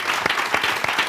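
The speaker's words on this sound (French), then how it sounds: "applaudissements pour moi." Audience applause for a host at a live show, steady and moderately loud with a few sharper individual claps standing out, no talk over it.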